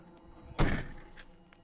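The cab door of a DAF truck swings open with a single solid thunk that fades quickly, close by against a quiet background.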